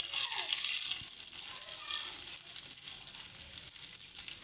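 A spiced pointed gourd mixture sizzles steadily in a pan while being sautéed, a continuous close hiss of frying with faint stirring scrapes and no talking.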